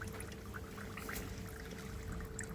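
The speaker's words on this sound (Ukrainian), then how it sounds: "Процес дивимося, як тече віск." Melted beeswax runs steadily from a wax melter in a soft, continuous pouring trickle, faint and close, with no voices.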